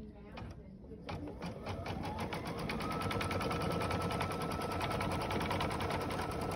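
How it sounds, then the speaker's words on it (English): A Brother Innovis XV8500 embroidery sewing machine stitches with a steady rapid mechanical chatter that builds up within the first second, then runs close and even throughout. "It will take, according to my display, 3 minutes to stitch."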